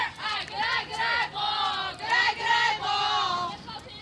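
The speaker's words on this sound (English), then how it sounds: "A nice crowd here today." Spectators at a 2019 Senate League softball championship game, voices cheering and calling out near the microphone in repeated bursts, with chatter throughout.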